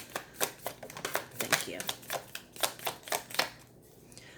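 A tarot card deck is shuffled in a run of quick, crisp riffling bursts in an irregular rhythm, close and clear, with a brief spoken phrase near the end.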